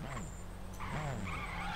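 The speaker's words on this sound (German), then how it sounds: "lass mal den Motor an" A car engine revs and tires squeal in the driving game The Crew, a droning motor rising and falling in pitch with screeching tire sounds over a steady noisy background.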